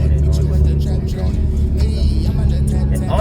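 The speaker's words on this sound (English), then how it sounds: "it's not stupid loud when you're just, you know, just cruising around and everything. It just sounds like you got a cat back on it." A built 500 whp Mitsubishi Evo X MR with a cat-back exhaust cruises in fifth gear, giving a steady, deep exhaust drone and road rumble under someone talking.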